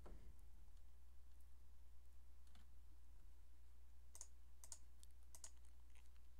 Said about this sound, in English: what I'm really using right now is nothing short of my Steam controller configured to be a keyboard and mouse